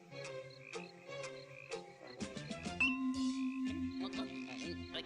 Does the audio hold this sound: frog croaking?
yes